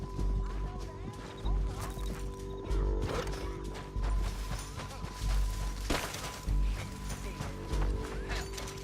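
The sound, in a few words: horses in video game Red Dead Redemption 2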